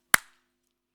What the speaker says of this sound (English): I'm just going to ask everybody to join me in a single clap